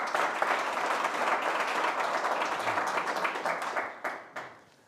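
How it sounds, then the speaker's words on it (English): A crowd breaks into sustained applause, dense clapping that holds steady then tapers off into a few scattered final claps. "If we could please give them a warm round of applause."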